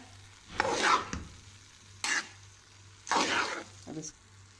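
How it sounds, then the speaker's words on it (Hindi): Rice being stirred with sugar in a cooking pot for sweet zarda, heard as three or four bursts of scraping, rustling strokes separated by short pauses, fairly close, with a steady low hum underneath. "अब चावल को हम मिक्स कर लेंगे। जो मीठा हमने डाला चीनी, ये इसमें अच्छी तरह मिक्स हो जाए।"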